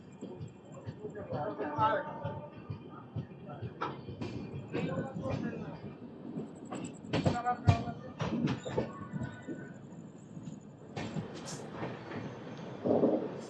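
A train is shunted into Secunderabad station, with rumbling, clanks and metallic knocks from the wagons. There are scattered sharp clicks and a busy mix of voices and platform noise throughout.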